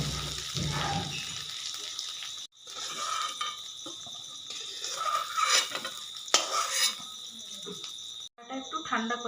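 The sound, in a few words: fried potatoes being taken out of the pan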